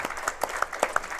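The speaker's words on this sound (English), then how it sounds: "let's give a round of applause to those seniors" Brief burst of crowd applause for the seniors at a college football team's weekly gathering, dense clapping with a few sharper claps standing out near the listener.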